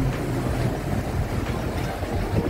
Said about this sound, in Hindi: बहुत सारे बोट भी आ गए हैं अभी बीच पे